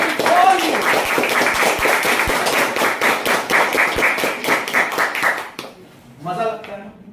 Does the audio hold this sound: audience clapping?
yes